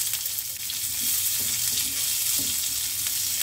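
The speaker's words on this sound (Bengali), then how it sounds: "পেঁয়াজটাও দিয়ে দিলাম।" Chopped onion frying in hot oil in a pan, added with curry leaves and mustard seeds, giving a steady loud sizzle with faint stirring scrapes throughout.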